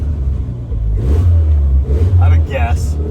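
A 1981 Dodge Challenger with a carburetor and a rough idle, its engine revving in low, throbbing surges that swell and ease back, loud and near, with voices talking over it.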